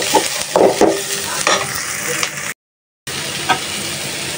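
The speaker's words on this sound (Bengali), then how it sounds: "তারপর তো ডালটা নামিয়ে যে করলা ভাজিটা বসায় দিলাম।" Bitter gourd (karela) fries in a pan with a bright crackling sizzle. The sizzle is broken by stirring scrapes and a brief dropout partway through.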